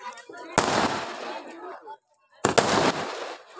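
A 60-shot sky shot fireworks cake fires in two loud crackling bursts, the first about 1.5 seconds long and the second about half a second, with a short silent gap between them.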